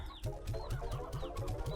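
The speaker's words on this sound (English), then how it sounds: "Too many hens, y'all." Hens clucking in a crowded flock in the video game Slime Rancher 2, a rapid, steady, overlapping stream of close clucks with no talking.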